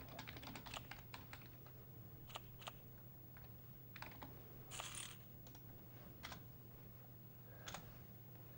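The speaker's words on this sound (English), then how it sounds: "He's even moved his keyboard to the centre so he can actually type quicker" Rapid keyboard typing from a poker player chatting online, a steady run of clicky keystrokes with a few louder bursts, fairly close and alone over a constant low hum.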